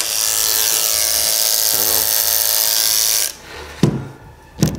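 An electric hair clipper motor buzzes loud and close at a steady pitch for about three seconds, then cuts off, followed by a couple of brief knocks.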